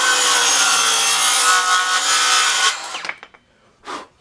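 A saw cuts through wood with a loud, steady grinding rasp that holds for nearly three seconds, then falters and stutters as the blade binds near the end of the cut, followed by a brief rub.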